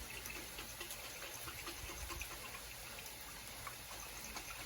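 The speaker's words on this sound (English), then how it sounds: "So you put a little water, and shake it up." Water sloshing and gushing in a container as it is shaken with Alfredo sauce mix, a continuous rough wash of liquid noise at moderate level with no talk.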